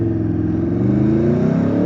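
An Italian motorbike engine revs steadily and loudly for the whole stretch, its rising and falling harmonic drone close by and continuous, with no talking over it.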